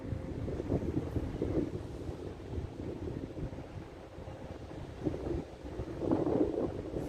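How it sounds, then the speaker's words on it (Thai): Cold wind blowing steadily outdoors, a continuous broad rushing and buffeting against the microphone with gusts swelling near the end, no voices heard. "หนาวด้วยจ้ะลมพัดนี่เย็นพี่น้องเอ้ย"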